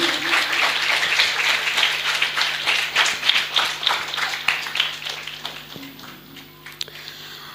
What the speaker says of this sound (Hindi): जोरदार तालियां बजाएंगे अभी।